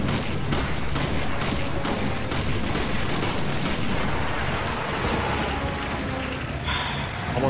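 Rapid, dense gunfire from the video game Resident Evil 5, a sustained barrage of loud shots and booms running without pause, close and harsh throughout.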